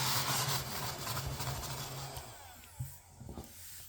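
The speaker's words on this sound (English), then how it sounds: "I think I need to vacuum up my desk here a little bit." A small vacuum cleaner runs over a desk with a steady, close whirring hum for a couple of seconds, then winds down and stops, leaving a few faint clicks and handling sounds.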